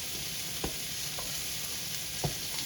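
Thinly sliced garlic fries in a wok for a stir fry of leftovers, giving a steady close sizzle broken by three sharp scrapes of stirring.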